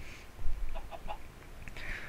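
Chickens cluck in a blocky survival video game on a mushroom island, a few short clucks scattered over a steady background hiss at moderate level.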